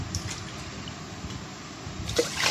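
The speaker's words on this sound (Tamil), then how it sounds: "இதில் வந்து 5 டம்ளர் தண்ணி வந்து ஊற்றிக்கலாம்." Five tumblers of water being poured over rice and dal in a pressure cooker for pongal, a steady continuous splashing pour heard up close with no talk.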